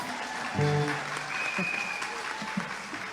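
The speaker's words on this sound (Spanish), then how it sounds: "Un fuerte aplauso una vez más para Zena Deikov." Audience applause at a kids and teens Christmas song festival: steady clapping throughout, with a brief tonal voice or music swell near the start.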